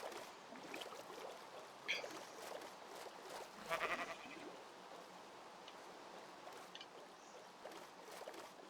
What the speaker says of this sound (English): Oh look, a black sheep.